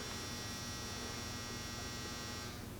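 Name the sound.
clothes dryer running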